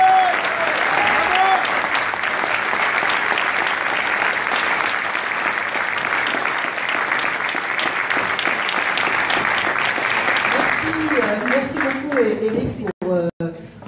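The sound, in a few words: thunderous applause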